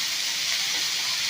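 Chopped tomatoes with a little salt frying in a pan, producing a continuous bright, hissing sizzle that stays even and close throughout.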